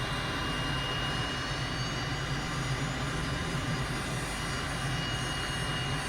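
An M-346 jet trainer's engine holds a steady, loud whine and roar in a flight simulator. The sound stays constant and unbroken throughout.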